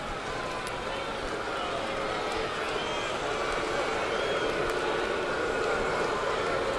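A 2009 Blue Jays baseball stadium crowd grows restless during a tense extra-inning at-bat, producing a dense, steady roar of murmuring and chatter that holds at an even, fairly loud level.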